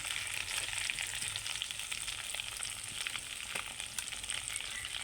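Potato chops (aloo chop) sizzle in hot oil, a steady, fairly quiet crackle with scattered pops throughout and no voices.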